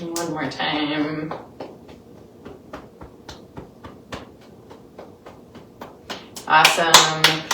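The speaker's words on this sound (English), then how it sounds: "Clapping the hands." Hands clapping in a steady series of sharp, close claps during a yoga practice, with bursts of talk at the start and end.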